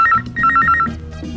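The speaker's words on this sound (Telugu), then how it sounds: "అమ్మా రింగ్ అవుతోంది." Telephone ringing in a home, a short burst of rapid warbling electronic trills that starts and pauses, heard close and fairly loud over faint background music.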